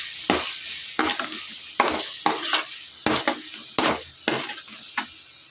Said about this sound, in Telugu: బిర్యానీ మసాలా పౌడర్ వేసుకుని ఇదంతా కూడా బాగా మిక్స్ చేసుకోవాలి.